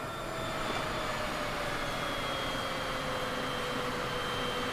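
A Cessna light aircraft taxiing in Microsoft Flight Simulator 2024, heard as a steady, moderately loud engine drone with a faint whining tone above a broad rushing hum, continuous and unchanging throughout.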